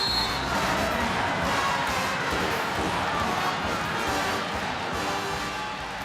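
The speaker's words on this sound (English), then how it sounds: "A loud, rowdy crowd here to support their hometown team." A loud, rowdy home crowd fills an arena at an Iowa Hawkeyes women's basketball game against Marist, a dense, continuous roar of many voices that barely lets up.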